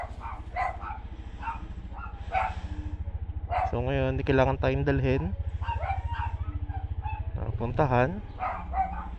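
A dog barks in bursts during a motorcycle ride test of a Racing Boy PG-1 helmet microphone, the barks loud and harmonic, mixed with engine rumble and wind while someone talks over it.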